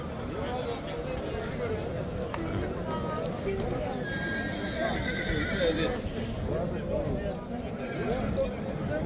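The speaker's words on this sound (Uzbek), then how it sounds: "Mana otlar juda ham ko'p." Horses whinny and neigh repeatedly amid a busy outdoor crowd at a livestock market's horse section in Uzbekistan, with hoof clops and murmuring voices throughout.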